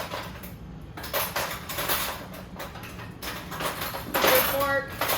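Cutlery and dishware being set out for plating in a home kitchen, with light clinks and clatters scattered under steady talking and a brighter metallic clink near the end.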